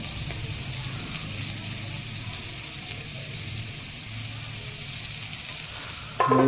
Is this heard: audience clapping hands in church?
no